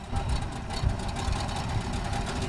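The motor of a passenger pinasse boat crossing the lagoon in Abidjan runs as a continuous low, rumbling drone with steady chugging texture, close and unbroken throughout, with no speech.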